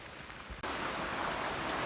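Heavy rain pours down on a partially flooded pasture, starting abruptly as a dense, steady hiss of close drops that continues without a break to the end.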